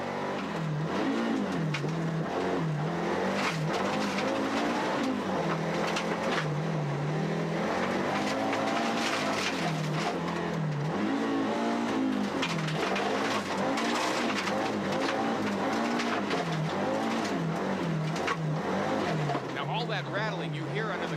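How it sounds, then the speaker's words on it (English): A rally car at the 1994 Tall Pines rally roars continuously as it slides sideways on a gravel road, engine note rising and falling loudly with gravel spray, under a commentator's voice. "That's the gravel hitting it now."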